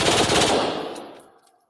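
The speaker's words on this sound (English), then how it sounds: "Meek Mill has a switch in a range, shooting it off live on Twitter." A gun fitted with a switch fires a loud, rapid automatic burst at a range, one sustained rattle that trails off into a short echoing decay.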